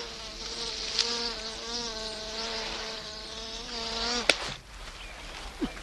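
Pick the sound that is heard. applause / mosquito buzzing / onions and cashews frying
mosquito buzzing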